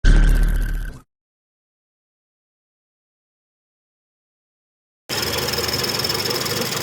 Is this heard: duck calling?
no